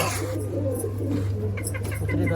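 Pigeons in a loft, desi and fancy breeds, give a steady low cooing that continues throughout, close and moderately loud, with faint background rustling.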